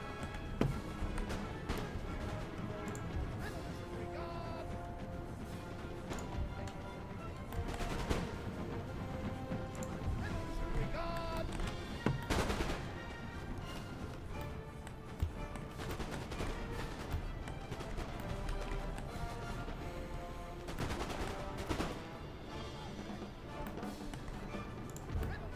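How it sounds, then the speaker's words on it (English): Round shot artillery volleys fire in the video game Napoleon Total War amid a busy battlefield din, with scattered booms and crackling musketry layered over continuous background noise and music-like tones. "Still fire round shot"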